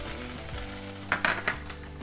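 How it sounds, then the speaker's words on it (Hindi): Cumin, ginger and green chili sauté in hot oil with a steady close sizzle, a few sharper stirring scrapes of the spoon near the end, and no voices. "अब इनको कर देंगे सॉटे।"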